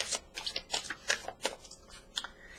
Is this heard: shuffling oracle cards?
yes